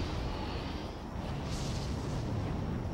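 Missiles burst in the video game Godzilla Saves the Earth as a dense, continuous low rumble of explosions, loud and unbroken for the whole stretch, with no talk.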